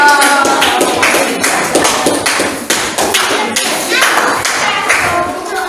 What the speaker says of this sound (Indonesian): Tepuk tangan untuk kelompoknya Cicing sudah selesai